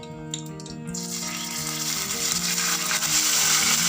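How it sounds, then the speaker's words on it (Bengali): Ground banana stem paste frying in a pan over medium heat after black cumin seeds, a steady close sizzle that swells into a dense, continuous hiss with faint scraping underneath. "এবার আঁচটাকে আমি মিডিয়ামে করে প্রথমে থোরটাকে 2-3 মিনিটের জন্য আমি ভেজে নিচ্ছি"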